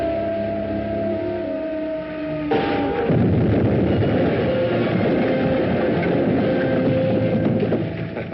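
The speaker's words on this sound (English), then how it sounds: "The trainload of army supplies was just blasted out in the west end of the valley." Film sound effect of an army supply troop train being blasted: a low rumbling train-like drone gives way to a loud, sustained roaring blast of noise that fills most of the stretch, with no voices.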